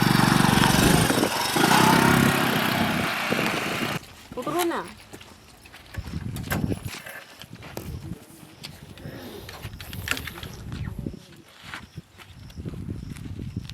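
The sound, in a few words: tractor engine running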